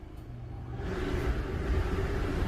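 An RV air conditioner kicks on while running off a Predator 3500 generator, a broad low rumble and whoosh that swells over a couple of seconds into a steady, fairly loud hum with no talking.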